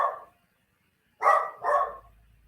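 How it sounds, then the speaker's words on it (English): A dog barks in the background: one short bark, a pause, then two quick, fairly loud barks in succession, with no talking over them. "I have a dog in the background in case you haven't noticed."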